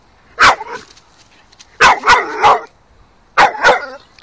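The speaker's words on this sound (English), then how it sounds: "Oh, don't bark at him." A Staffordshire Bull Terrier barks in short bursts at a pony: one sharp bark, a pause, then a quick run of three, then two more, loud and close with quiet gaps between.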